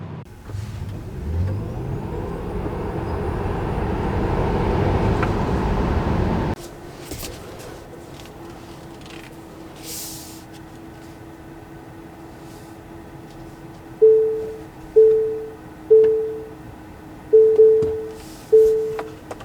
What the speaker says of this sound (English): here's a quick 0 to 60 in the 2020 Tesla Model 3 long range